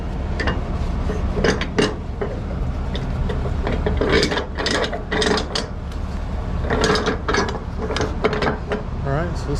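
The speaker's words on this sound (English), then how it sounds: "Tighten up the straps." A ratchet strap is cranked tight over a lumber load, giving bursts of sharp metallic clicking and rattling in uneven clusters against a low background rumble.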